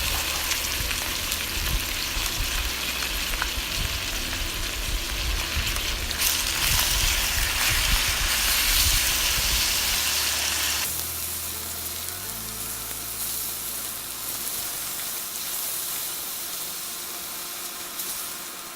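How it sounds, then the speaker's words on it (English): Half a kilo of ground beef sizzles loudly in a hot pan while a wooden spoon breaks it up, a steady broadband frying hiss that eases somewhat partway through, with no talking. "Add the beef and break up with wooden spoon."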